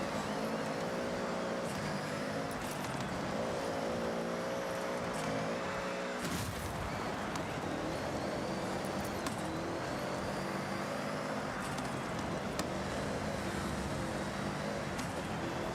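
Engine of a vehicle in a winter-themed driving video game, a steady droning hum with shifting harmonics that drops and changes pitch partway through after a gear change, continuous and fairly loud with no speech.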